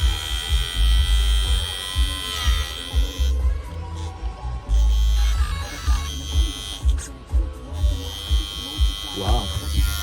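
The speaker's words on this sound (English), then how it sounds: "the fan is hitting the fins, but the fan works" An RC car's cooling fan, on a TP4080 motor setup, buzzes loudly as its blades strike the heatsink fins, giving a rough electric whir that pulses and stutters, with a voice talking over it.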